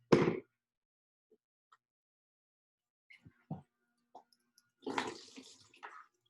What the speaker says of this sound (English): So you squeeze out the excess water over there in a bucket